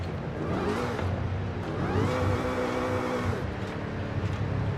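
A supercharged car engine in the game Forza Horizon 5 whines as it revs, the rising pitch climbing and falling across a few gear changes over a steady engine roar.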